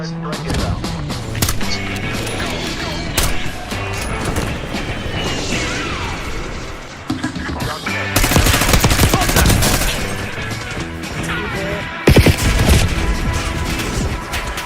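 Artillery fire mission in a video game advert: dense, rapid volleys of loud blasts and crashing impacts that swell into heavier barrages, with a brief radio-style voice under the noise.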